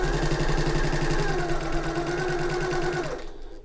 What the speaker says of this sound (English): So I'm back stitching to start with